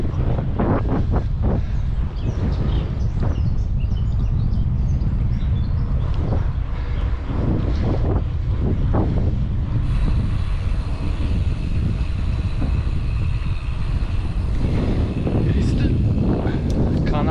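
Wind buffets the microphone while cycling near Lely in Almere, a constant loud rumble with gusty swells throughout, and a person talks over it.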